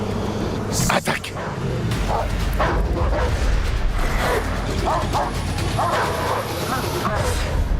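Dogs set loose barking and yelping in a crime reenactment, repeated excited barks and whimpers over loud, busy background noise and scattered voices.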